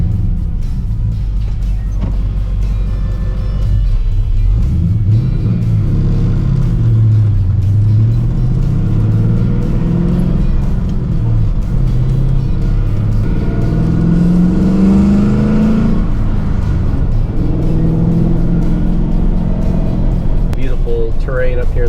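A 1955 Ford F100 pickup with a Coyote V8 swap cruises along mountain roads in Arizona, its deep engine rumble steady and close, rising briefly on acceleration while someone talks over it.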